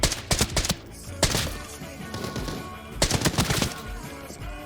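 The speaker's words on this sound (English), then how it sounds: "Oh, there's some gunfire" Bursts of rapid video game gunfire crackle in loud clusters, with dense rattling volleys separated by brief lulls of noisy background.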